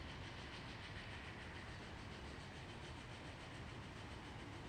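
A train rolls along in the video game Persona 5 Tactica, giving a steady, dense rumble with a faint clickety-clack that holds evenly the whole time, with no voices.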